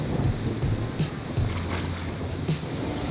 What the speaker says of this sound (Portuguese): vento não para,